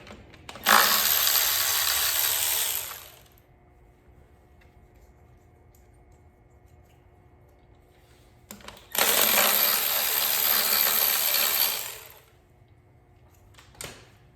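Removing 10 mm bolts from the intake manifold of a junkyard 2.0T engine being prepped for install: two long, loud bursts of power tool whirring, each lasting a few seconds and separated by a quiet pause.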